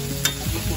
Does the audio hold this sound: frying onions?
yes